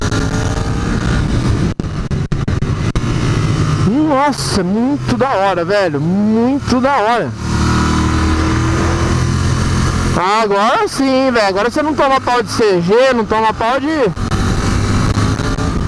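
Royal Enfield Continental GT 650 motorcycle engine pulling hard while riding, loud revving that climbs through rising pitch sweeps in two bursts, with steady rumble between and a rider talking excitedly over it.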